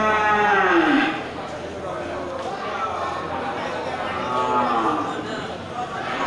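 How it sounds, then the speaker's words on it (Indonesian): Large cattle at a cattle market moo in long, drawn-out calls, one loud and close at the start and another later, over a background of crowd murmur and talking. "Sapi bobot besar ya,"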